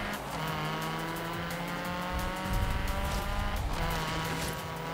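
Forza Horizon 3 rally car engine drones loudly and without a break, revs sweeping up and down as gears shift, with some tire noise mixed in and no speech.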